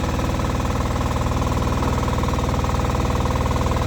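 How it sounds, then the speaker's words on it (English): Engine of an access platform running, a loud close rapid mechanical chugging with a steady pulsing rhythm that holds constant for the whole stretch. "this button here kills the engine"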